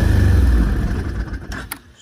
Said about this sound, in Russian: Даю газа